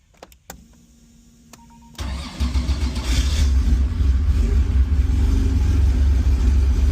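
A Porsche 911E with fuel injection fires up after sitting for a long time: a couple of clicks and a brief starter whir, then the engine catches and settles into a loud, steady idle.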